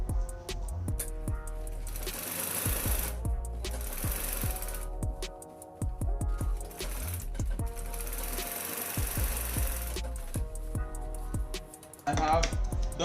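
A sewing machine top stitches fabric on a senator top, running loud and close in long continuous bursts with a few brief stops.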